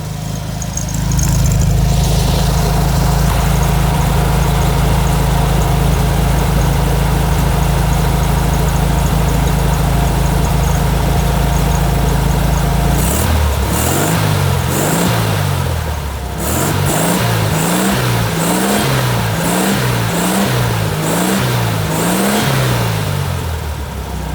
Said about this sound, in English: Got the classic Beetle sound. Let you hear it running.